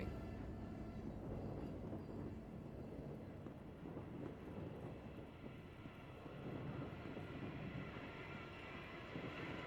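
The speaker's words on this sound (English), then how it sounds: "It is moving." A subway train runs in the horror video game Post Trauma, giving a steady, close rumble of rolling wheels and carriage noise that holds at an even loudness throughout, with no talk over it.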